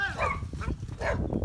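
Dogs in a park bark and yip in short, close bursts, a few sharp barks spaced across the moment, with a whimpering edge and no talk over them.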